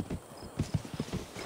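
Horse hoofbeats in the video game RIFT, a quiet, steady clip-clop of several soft hoof strikes in an even trotting rhythm over a faint background hum.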